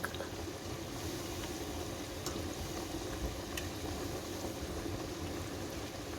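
Chickpea vada made from white chickpeas frying in hot oil, a steady dense bubbling sizzle with faint crackles, continuous and close, with no voices.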